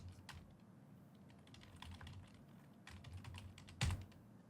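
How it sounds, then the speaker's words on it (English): Rapid typing on a computer keyboard, a steady patter of close, fairly quiet keystrokes with one louder thump near the end, heard alone without talk. "So I can go ahead and type in now."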